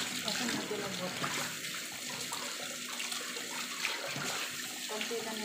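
Tap water runs steadily over meat bones being rinsed in a sink for Chinese watercress soup, a continuous close splashing wash with a voice talking over it.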